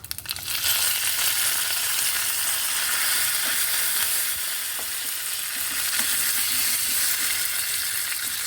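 Curry leaves fry in hot oil in a pan while chutney for millet dosa is being made, giving a loud, dense sizzle and crackle that runs steadily throughout with no talking.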